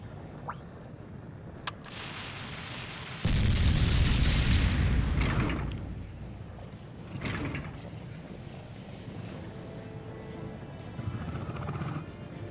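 A video game explosion in Monster Hunter Stories bursts in as a loud, broad roar that holds for about two seconds, then fades into rumbling debris and softer after-impacts.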